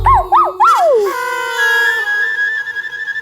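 A dog gives a few high, rising yelps and whines that trail into a long, steady whimpering tone, loud and close.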